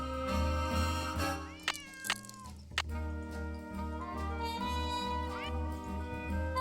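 A cat named Yuri meows repeatedly in a video game, several clear, close meows standing out over steady background game music.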